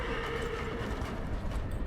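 Horse galloping in the video game Darksiders Genesis, a dense, steady run of hoofbeats with a whinny mixed in, loud and continuous under game sound.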